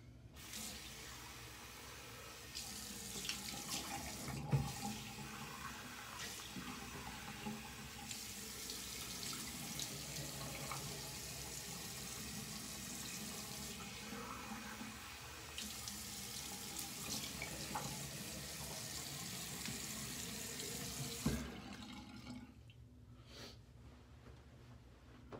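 Tap water runs steadily into a sink while a shaving razor is rinsed, a close continuous splashing rush with occasional knocks of the razor against the basin, then the water shuts off near the end.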